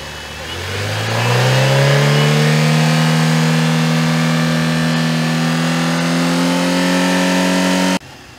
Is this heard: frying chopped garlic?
no